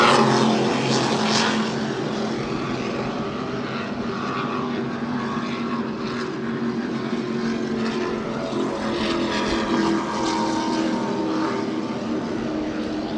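Offshore racing powerboats, including a 40-foot Skater V-bottom and a Fountain, roar past side by side at the New York Super Boat Grand Prix, a loud, steady, throbbing engine drone that stays constant throughout.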